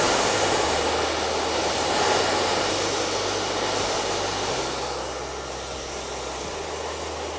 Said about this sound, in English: just lift the hair and blow dry that into the hair